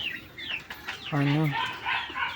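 A Plymouth Rock hen, close to laying, gives a few short clucks and one drawn-out, rising-and-falling call in a small farm setting, close by.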